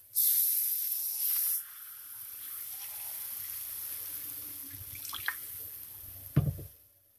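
Water poured into a hot pan of fragrant spices for an Indonesian yellow fish curry hisses and sprays loudly at first, then settles into a steady close sizzle with a few drips and a final clatter.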